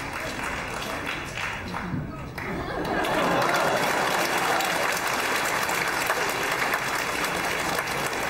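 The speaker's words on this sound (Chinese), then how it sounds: "我要是像，您也鼓鼓掌。" A theater audience at a comic crosstalk performance about Peking opera breaks into loud, sustained applause after a short stretch of quieter sound.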